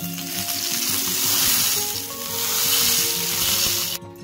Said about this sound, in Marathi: आपण आता तव्यावर चौकून चौ बाजूला तेल टाकून घेऊ।